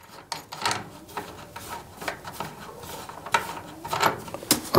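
Close mechanical clicks and ratcheting scrapes come from a screw being loosened by hand while a Gallagher fence energizer is wired, with irregular turns and a few sharper ticks and no speech.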